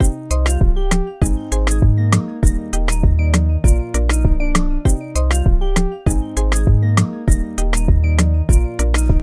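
An Afro bongo beat built in FL Studio plays with its full arrangement layered together: loud, driving, tightly repeating percussion hits over a steady melodic loop, with no pauses and no talking.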